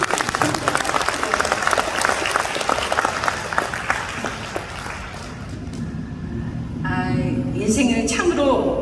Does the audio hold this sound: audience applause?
yes